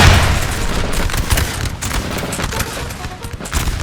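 Dense musket volleys crackle and boom from a Russian line firing fast in a Napoleon Total War battle of Reims, 1814, a continuous loud fusillade with overlapping shots and no pause.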